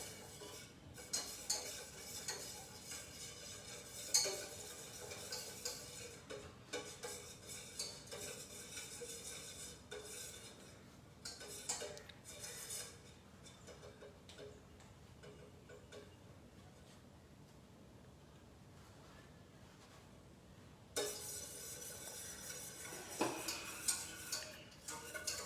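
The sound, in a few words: stirring gelatin crystals until they dissolve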